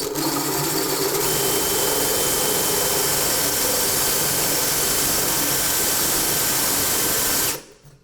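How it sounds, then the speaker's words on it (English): Power drill boring a hole during a shower remodel, a steady, loud, continuous whine that holds for about seven seconds and then cuts off abruptly. "I want to make the hole I'm drilling just a hair bigger than the bit itself"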